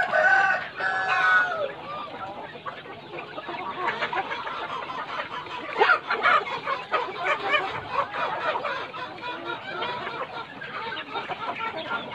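Chickens on a farm cluck steadily throughout while a rooster crows near the start, a dense, busy barnyard din with faint human voices in the background.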